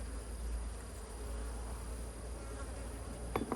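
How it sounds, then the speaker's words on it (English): Honey bees humming at an open hive in an apiary during a hive inspection, a dense steady buzz of many bees close by, continuous and fairly quiet, with a few brief nearer buzzes toward the end. "Yeah, it looks like a lot of bees."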